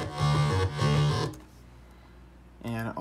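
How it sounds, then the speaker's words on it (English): A distorted guitar-like synth layer from an electronic music production plays two bright, buzzy sustained notes, drops out to near silence, then returns briefly at the end. "this little distorted guitar type thing"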